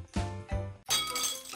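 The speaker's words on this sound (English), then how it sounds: "A plate has shattered!" A ceramic plate shatters in a Pororo kids' video game: two bright clinking hits, then a louder crash with a ringing, glassy tail that fades.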